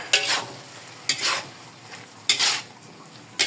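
Pork liver added to a pan of dinuguan, four separate bursts of hissing sizzle each starting with a sharp clatter, loud and close with quieter gaps between.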